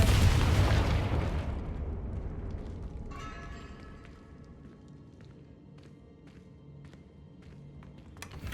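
A Confringo blasting spell in Hogwarts Legacy erupts in a heavy booming explosion at the start, then rumbles and decays over several seconds into quieter debris clatter and faint scattered sounds.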